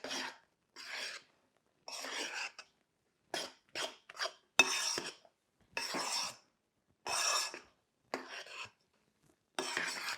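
A spoon folds egg whites into batter in a bowl, giving short separate bursts of soft scraping and sloshing with brief silences between strokes, close up.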